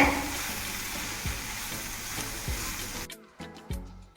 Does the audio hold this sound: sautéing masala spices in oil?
yes